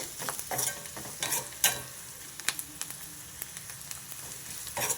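Turmeric frying in hot oil in a pan, a steady sizzle broken by repeated scraping strokes of a spoon stirring, close and fairly loud, no voices.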